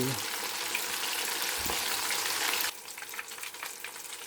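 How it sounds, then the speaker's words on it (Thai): Two pieces of dory fish frying in hot oil, a loud dense crackling sizzle that drops to a quieter, spattering fry partway through. "ปาดอลี่สองชิ้น ใส่ร้อนร้อน น้ำมันร้อนร้อนทอดดี"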